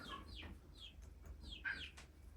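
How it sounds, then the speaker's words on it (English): Quiet chicken clucks and squawks scattered over a low steady background hum, a few short calls rising and falling. "Sorry about those chickens."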